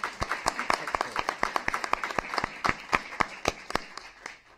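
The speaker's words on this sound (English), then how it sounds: "Let's have a round of applause" Sparse, scattered clapping from a small audience at a city council meeting, distinct individual claps in an uneven rhythm at moderate volume that gradually thins out.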